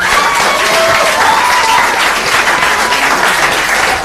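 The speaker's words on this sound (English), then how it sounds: "Please, can you clap for the only lady selected out of 8?" An audience claps in steady, dense applause that holds loud and even throughout, with no voices standing out.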